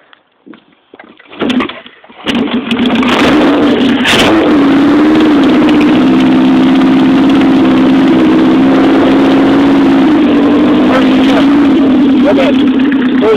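A 1975 Honda CB750 motorcycle fitted with a Dyna ignition cranks for about two seconds and catches. It settles into a loud, steady close-up idle, and a voice speaks briefly over it.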